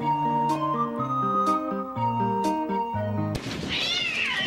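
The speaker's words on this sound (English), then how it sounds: "Oh my gosh! Kitty cats everywhere." Several cats meow in a steady, rhythmic series of tonal, pitched calls, loud and close, about one each half second, ending in a drawn-out, wavering caterwaul.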